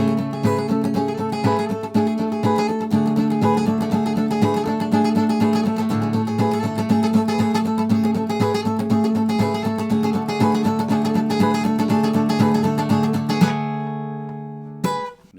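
An acoustic guitar plays the trickiest passage of a song, with dense, steady picked notes ringing continuously and fairly loud before stopping abruptly near the end.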